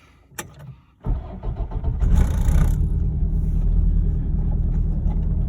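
A car engine cranks briefly after a short click, then catches and settles into a steady, loud idle rumble that holds to the end, with no talking.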